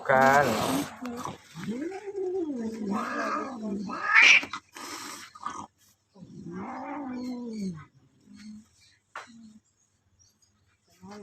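Aggressive pet cat growling and yowling during a grooming session, long rising-and-falling wails repeated several times at close range, with a person talking over and between the cries.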